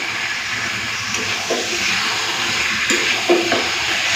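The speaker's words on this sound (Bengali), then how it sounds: "আবার একটু মাংসটা কষে নিই।" Mutton pieces being stir-fried for mutton curry, a steady close sizzle and hiss with occasional soft scrapes of stirring, no talk.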